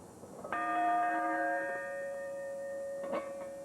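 A church bell in the bell tower of Holy Trinity, rung from below by a rope, strikes once with a clear, sustained ringing tone that decays slowly, followed by a fainter second strike near the end.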